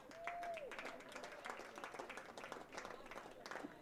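Applause rises from a crowd at a college men's lacrosse game for the senior class, a dense, fairly faint patter of clapping that keeps going with talk over it.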